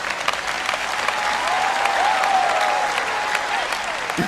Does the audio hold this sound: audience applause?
yes